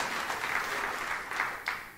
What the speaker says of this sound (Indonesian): Tepuk tangan sorak-sorai yang paling meriah buat Yesus